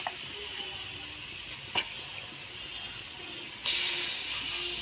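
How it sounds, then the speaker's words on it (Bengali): Chicken pieces sizzle in a kadai with oil and spices, a steady hiss running throughout, with one brief sharp spatter and a louder burst of frying near the end. "এখন আমি চিকেনটা এই দিয়ে দিলাম, মাংস দিয়ে দিলাম কড়াইতে।"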